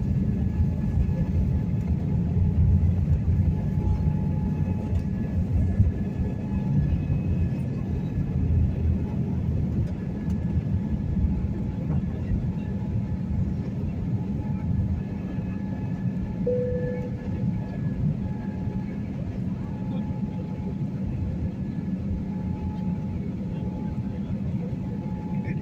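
Steady low rumble inside an airliner taxiing at Las Vegas airport, a constant engine and cabin drone with faint voices in the background.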